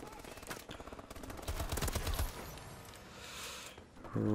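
Rapid bursts of submachine gun fire in Call of Duty: Advanced Warfare, played on PS4 with dual SMGs, crackle loudly in stuttering volleys, with a few separate shots trailing after.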